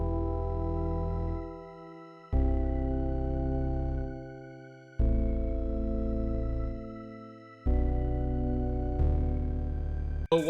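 A hip hop beat layered with a deep analog big-bottom bass plays four long, sustained notes that shift pitch, each fading before the next one hits, with no talking.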